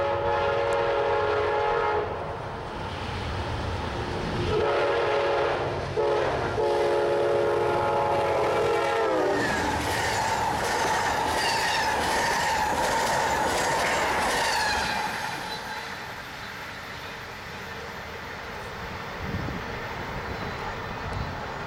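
Amtrak passenger train led by locomotive 189 passing close by, horn blasts early on, then a loud rush of wheels with clickety-clack and squealing rail noise that fades toward the end.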